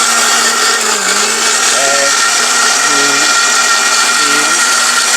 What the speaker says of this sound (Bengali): এখন এই ব্লেন্ডারের কাছে দিবেন, 1 ঘন্টার কাজ মাত্র 10 সেকেন্ডে করে দিবে